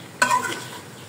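Free-range chicken and potato pieces sauté together in a pan. A short scrape sets off a burst of sizzling that quickly settles into a steady, moderate fry.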